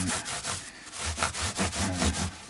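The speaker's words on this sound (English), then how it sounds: "sanding flat and then polishing out." Hand sanding of thick, chunky gloss lacquer to flatten it, a steady close-up rasping scrub in repeated back-and-forth strokes with no talking.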